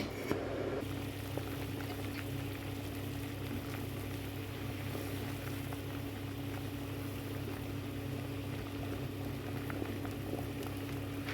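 Hibiscus bissap juice simmers in a covered pot, producing a steady low bubbling rumble with faint hiss that continues evenly throughout, no voices.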